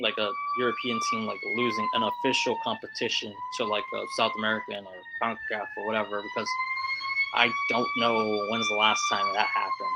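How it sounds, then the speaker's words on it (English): An emergency vehicle siren wails steadily out on a busy street, loud and continuous beneath someone talking throughout. "so sorry for the siren."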